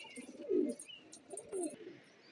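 Two low, soft pigeon coos, one after the other, with faint bird chirps in the background.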